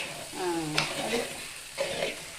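Coriander seeds, cinnamon, cloves, cardamom, peppercorns and a little rice are dry-roasted and stirred in a pan, giving a soft scraping, rustling stir with faint sizzle and a short voice in the background.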